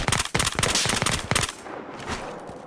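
Rapid automatic gunfire in Battlefield Hardline crackles in a dense burst of shots for about a second and a half, then trails off into a fading echo.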